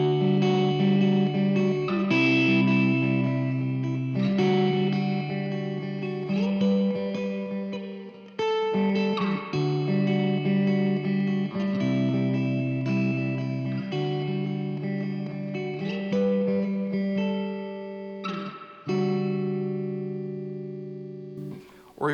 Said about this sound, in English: for these like super kind of almost poppy clean sounds, if I do like a middle position with like a split coil